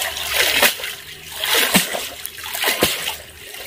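Pomfret fish are rinsed under a running tap, with close, loud splashing that swells and fades. Sharp slaps of water and handling come through several times during the clip.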